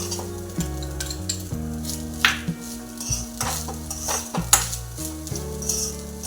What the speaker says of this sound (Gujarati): થોડુંક હલાવતું રહેવાનું એટલે વ્યવસ્થિત ઘીમાં મિક્સ થઈ જાય અને શેકાઈ જાય